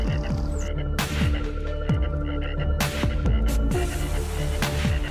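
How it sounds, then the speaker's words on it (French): Frogs croak in the video game Zoonomaly, a dense chorus of repeated throaty croaks over a steady low hum, with occasional sharper bursts breaking in throughout. "Est-ce le coassement des grenouilles?"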